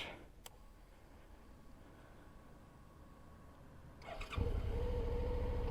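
A car engine rumbles in as it approaches from behind a motorcycle and passes close by, swelling to a loud steady roar after a quiet stretch.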